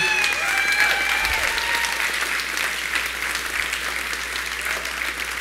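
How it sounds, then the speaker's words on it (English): Crowd applause at a Nebraska Republican gubernatorial primary election event, a steady, loud wash of clapping that carries throughout and fades slightly toward the end, with faint whistles early on. "would you give all of this group in front and behind me a big round of applause"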